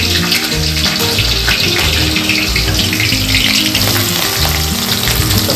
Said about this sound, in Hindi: जीरा, मिर्ची और प्याज को हमने डाल दिया है और अब इसको शैलो फ्राई होने देते हैं।